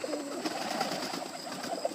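A Portuguese tumbler pigeon, a young grizzle cock courting a T-check hen, coos in a soft, steady, low rolling call that runs close and continuous through the short stretch, with no talk.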